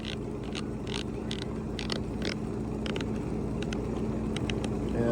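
A Sea-Doo GTX Limited 300 personal watercraft idles in neutral, a steady low engine hum with a faint tonal whine, accompanied by light clicking and tapping sounds nearby.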